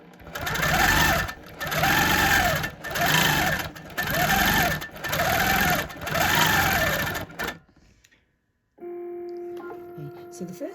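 A sewing machine doing free-motion quilting of a holly design, its motor whirring loudly in six even bursts of stitching with brief pauses, then stopping before a quieter steady hum follows.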